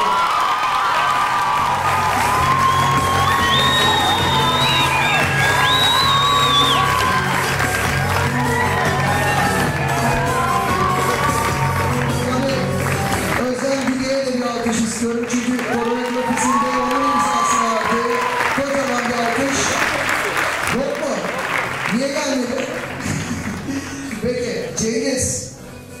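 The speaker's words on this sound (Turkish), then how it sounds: "Ben Cengiz Çevik için kocaman bir alkış rica ediyorum." An audience at a school theatre play applauds and cheers loudly and steadily, with children shouting and whooping through a dense crowd roar, and a voice calls out now and then over the clapping.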